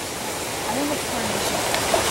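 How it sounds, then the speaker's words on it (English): A small creek flows in a park, a steady, close broadband rush of water running throughout, with a person talking faintly over it. "It's not the river anymore,"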